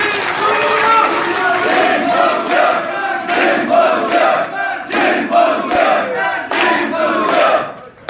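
A large crowd claps and cheers together at a Korean labor union federation election rally in Daejeon, a dense, steady roar of hands and voices for about eight seconds.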